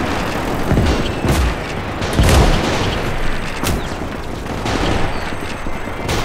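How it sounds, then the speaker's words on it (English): Mortar rounds and gunfire rage in a WWII battle in Gates of Hell: Ostfront, with repeated booming blasts and a heavy impact near the middle over continuous crackling fusillade, dense and fairly loud throughout. "Whatever that ammunition mortar round was."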